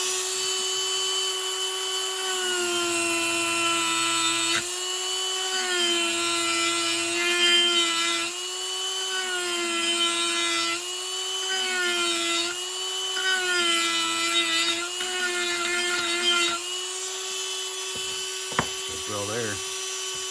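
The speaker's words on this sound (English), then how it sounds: "This is one of my favorites, this V wheel. Let's try it on the walnut." A homemade V-shaped carving bit cut from a grinding wheel spins on a rotary tool with a steady high whine that dips and returns as it bites into walnut in repeated passes, close and loud.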